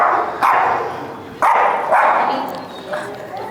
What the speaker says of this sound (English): So he barks a lot?